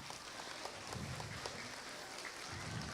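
A school assembly gives the prep children a round of applause. Faint, distant, steady clapping continues evenly throughout.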